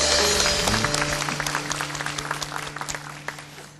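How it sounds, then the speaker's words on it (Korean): Congregation applause at a church youth worship service, a dense burst of many hands clapping that starts strong over fading music and gradually thins and tapers off. "오늘 이곳까지 우리를 인도하신 하나님께 영광의 박수 올립시다."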